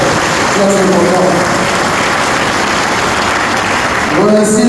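Dense, steady applause from a ceremony audience fills the whole stretch at close range, with a voice speaking briefly at the start and again near the end.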